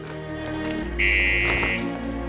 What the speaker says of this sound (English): he's triggering an alarm